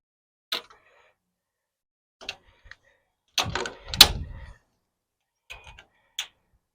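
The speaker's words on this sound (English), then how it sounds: "You want me to open that back door" Back door of a car being opened, with a sharp latch click followed by a louder clunk and rattle of the door swinging, framed by a few isolated clicks and knocks, close by and with no talk.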